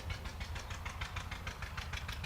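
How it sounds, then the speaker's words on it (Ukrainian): Tractor engines run in a village in spring, a steady mid-pitched rumble with a regular pulsing chug, continuous and fairly close throughout, with no voices. "І звук тракторів."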